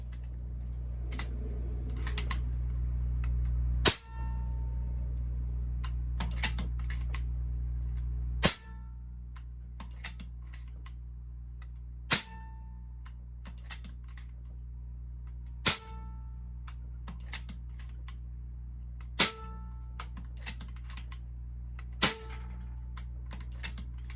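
An AEA air rifle fires six sharp, close reports at intervals of several seconds, with a steady low hum between shots and faint clicks of handling.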